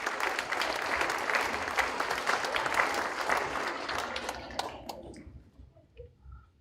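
An audience claps at an elementary school fifth grade awards ceremony, a steady burst of applause that fades out over the last two seconds.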